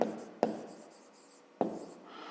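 A pen writes out a fifth-grade math expression on paper, with two sharp taps as the tip lands and soft scratchy strokes in between, close and quiet, with no talking.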